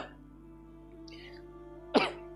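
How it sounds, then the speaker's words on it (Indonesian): A single short, sharp cough, close and fairly loud, breaks a quiet room near the end, after a few faint murmurs. "Batuk sekali tersangkut"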